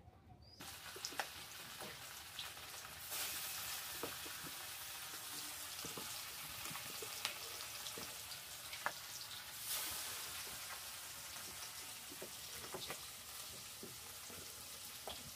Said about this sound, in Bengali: কড়াইয়ে তেল গরম হয়ে আসছে। মাছগুলো এখন দিয়ে দিব।